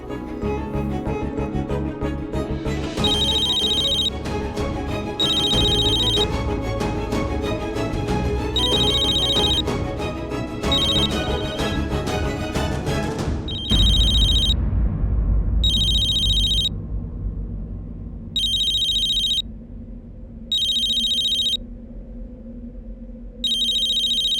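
A telephone ringtone repeats in regular bursts throughout, loud and close, first layered over dramatic music and then ringing almost alone against a soft background.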